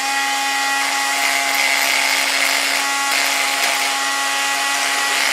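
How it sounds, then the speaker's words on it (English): A sanding wheel grinds steadily against a turkey spur bone, a loud continuous high whirring hiss with a constant motor whine, close up and unbroken. "I'm going to knock that off right now with a sanding wheel"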